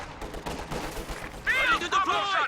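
Two MG34 machine guns defend a position in Company of Heroes 2, their bursts of fire crackling at a moderate distance and mixed with other battlefield noise, with sharper high-pitched whistling sounds toward the end.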